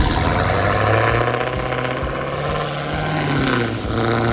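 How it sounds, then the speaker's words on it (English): A Dodge Charger Hellcat's supercharged engine roars close by, a deep rumbling idle with revving surges and a faint high supercharger whine layered on top. "Fire up the engine and an awesome roar greets you"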